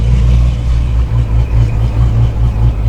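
A 426 Procharged Dodge Scat Pack pulls away with a deep, loud engine rumble that swells and dips in rough pulses, close by with no talking.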